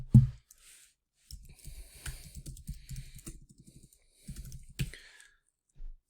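Keys are tapped on a computer keyboard in quick, uneven bursts of soft clicks, close and fairly quiet, with a short pause in the middle and one last tap at the end.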